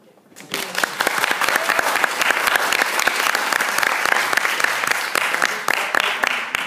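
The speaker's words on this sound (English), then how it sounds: "a round of applause for you guys." A room full of people claps steadily and loudly for several seconds after a university law school mooting competition, the dense applause rising quickly and holding even.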